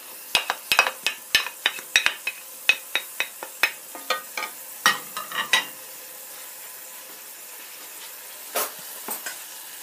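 Chicken pieces and garlic are stirred in a hot pan with oil, a utensil scraping and clinking in a steady rhythm of sharp strokes over a soft sizzle, close up, with no voices.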